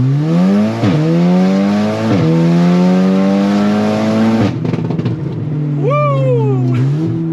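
A stock turbocharged Audi S3 accelerates hard on a test track, engine climbing through the revs with sharp gear changes and a strong, loud exhaust note, then a brief burst of higher-pitched whine near the end.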